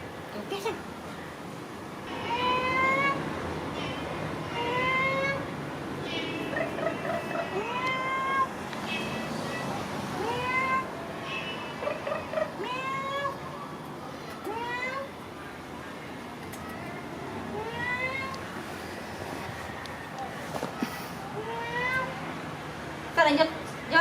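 A kitten meows repeatedly, close by, in a series of short rising and falling cries mixed with people talking in Vietnamese.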